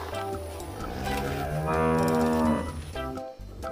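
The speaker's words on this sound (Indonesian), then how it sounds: "Ini namanya sapi perah." Dairy cow mooing, one long drawn-out low moo swelling in the middle and fading, close and loud with a steady background hum, no talking.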